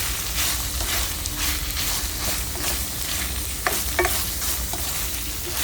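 Spaghetti meat sauce with hotdog being stirred in a frying pan, a steady sizzle under scraping and stirring, with a few brief clinks of a utensil against the pan near the end.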